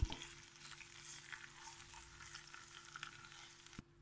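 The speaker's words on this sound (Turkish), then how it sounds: "Baharatlarımızı da yine bir dakikadan az bir sürede şöyle kavurup Kapatacağız altını." Spices are toasted in hot oil in a pan for Hatay-style salty yogurt soup. A soft, continuous sizzle with light stirring scrapes runs for a few seconds, quiet and close, ending with a small clatter.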